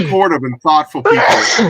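A single sharp sneeze bursts out near the end, loud and close, right after someone speaks a few words.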